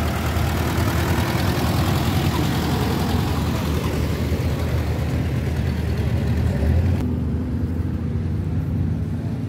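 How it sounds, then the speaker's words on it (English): An antique tractor engine runs at the Heritage Days tractor show in Greenville, Illinois, giving a loud, steady low rumble that continues throughout with no talking. "Oh, comes the tractor."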